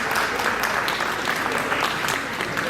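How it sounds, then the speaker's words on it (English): Steady, dense applause from an audience at a community event celebrating America's 250th anniversary, filling the room evenly for the whole stretch without pause. "Give the round of applause, please."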